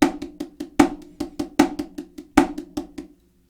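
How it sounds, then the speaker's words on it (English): A paradiddle figure played on a snare drum, with crisp sticking that runs in quick even subdivisions and carries regular louder accents. It is close and dry, played alone, and fades out at the end. "I'm going to use a very, very simple example of a paradiddle figure on the snare drum."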